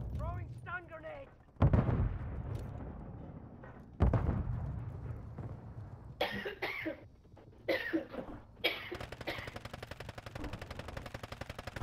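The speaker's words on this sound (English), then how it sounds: "Throwing stun grenade." Gunfire and a stun grenade blast in an online trios shooter game, loud booming thumps and bursts of rapid shots mixed with in-game effects, while players talk over it.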